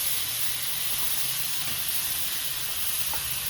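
Amul butter melting in a hot pan with a little oil, a steady soft hiss and sizzle at moderate level with occasional faint pops, no talking.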